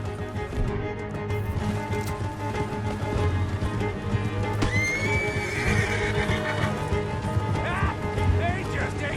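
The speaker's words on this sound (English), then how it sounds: "Let's get to those horses, Morgan." Horses neigh and gallop in a Wild West video game, whinnies rising clearly over pounding hoofbeats amid game music and background sound, with some speech mixed in.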